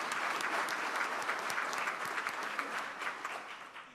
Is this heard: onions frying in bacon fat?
no